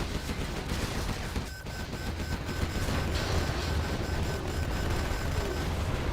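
Rapid volleys of artillery and gunfire from a C&C Generals Zero Hour battle, a dense, continuous barrage of booms and crackling shots with deep rumbling underneath, brief lull near the middle before resuming at full intensity.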